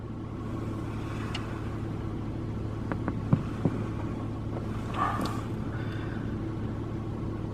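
Steady low rumble of a car interior while driving on a road, with a few faint clicks and brief knocks over the continuous engine and road noise.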